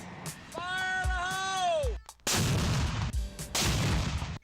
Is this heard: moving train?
no